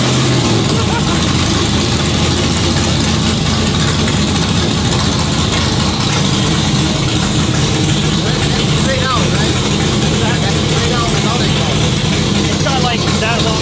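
A car in park, in a Texas performance workshop, runs with a steady low engine drone throughout, loud and close, with a broadband roar over it and people speaking in the background.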